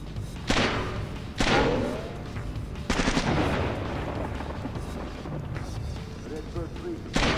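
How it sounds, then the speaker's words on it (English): Enemy gunfire in the stealth game Splinter Cell on PS2, during a mission at Kalinatek: a few sharp, loud shot bursts with thuds, the first ones close together near the start and more later, over a busy game soundscape with some talk. "Where's that guy shooting from?"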